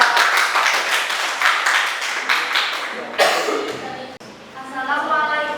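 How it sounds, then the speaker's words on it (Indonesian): In a classroom, a group of students claps for a few seconds, loud and close with a quick steady rhythm, then it stops and a voice speaks. "Silakan tepuk tangan buat kelompok 4."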